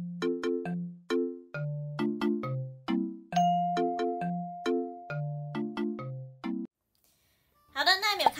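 A ding-dong notification chime plays as a bright, repeating melodic sequence of bell-like tones, loud and close, ending in a short pause and a brief burst of sound.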